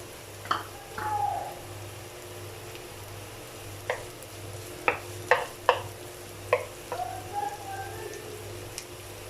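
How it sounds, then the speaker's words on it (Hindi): Sliced onions frying in a pan until translucent, a soft low sizzle with scattered light clicks and scrapes of stirring, faint and close, no talking. "इसको थोड़ा सा ट्रांसपेरेंट कलर होने तक हम लोग फ्राई करेंगे।"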